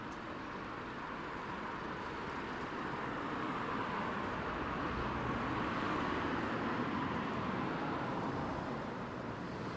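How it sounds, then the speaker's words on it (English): Steady roar of city traffic in Birmingham's Jewellery Quarter, a dense continuous wash of passing cars and vehicles at moderate distance with no voices. "I couldn't put up with this traffic noise"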